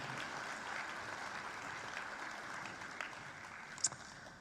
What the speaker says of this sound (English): I'd just like you all to put your hands together for all of the contestants over the years that have been in Miss Jewel.